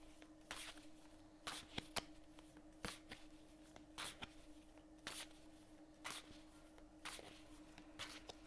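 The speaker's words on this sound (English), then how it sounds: "I'm going to shuffle the cards" A deck of cards is shuffled over and over in a quiet room, each short, crisp riffle about a second apart, soft and close with no talking.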